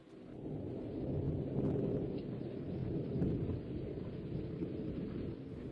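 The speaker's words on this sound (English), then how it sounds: "Parker did not ignore the distant crack of thunder or the low groan from the sky." A distant thunderstorm rumbles low and steadily, a continuous deep groan that swells slightly and fades, with no voices over it.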